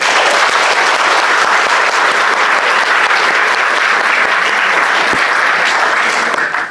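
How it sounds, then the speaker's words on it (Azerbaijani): A live audience applauding a man named Yunus at a talk, dense steady clapping held at full loudness throughout and fading only at the very end, no voices over it. "Yunus sağ ol, alqışlayaq Yunusu"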